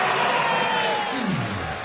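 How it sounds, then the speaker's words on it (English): A darts crowd at the 2017 Masters semi-final between Gary Anderson and Phil Taylor buzzes and cheers loudly and steadily throughout, with scattered whoops and raised voices rising out of the din. "The crowd are starting to buzz a bit now."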